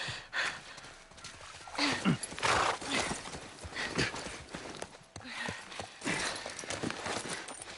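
Video game horse hooves from The Last of Us Part I clip-clop in an uneven, rhythmic patter over a steady background, with a few breathy snorts mixed in.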